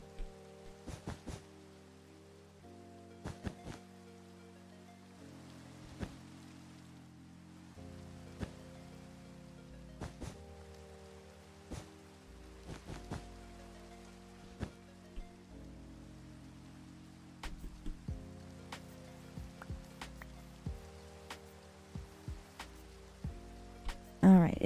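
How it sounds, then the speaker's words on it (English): Steady rain in the video game Minecraft, a soft continuous hiss running under looping game music with a few sharp clicks. "I can probably sleep away this rain."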